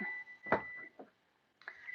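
A kitchen oven timer gives a couple of sharp electronic beeps, separated by a short pause, close and clear in a quiet room.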